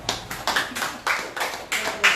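A few people clap in slow, even rhythm for a mother raising six children, about seven distinct close hand claps spaced roughly a third of a second apart.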